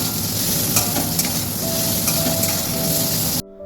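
Salted green jackfruit being stirred and fried in a pan, with a loud steady sizzle and scraping stir noises close by, cutting off abruptly near the end.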